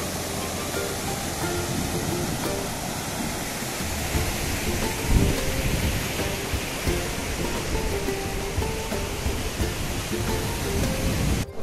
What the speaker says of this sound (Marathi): सुंदर अशा लाटा.